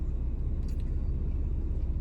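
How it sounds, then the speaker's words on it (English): Cars idling and pulling up in a parking lot outside a Memphis taco spot, a steady low engine rumble close by with no talk over it. "I done seen so many cars pull up."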